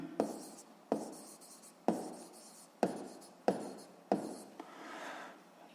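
Pen scratching on paper while calculations are written out, in six distinct strokes at a steady, unhurried rhythm, close and fairly quiet, with no talking.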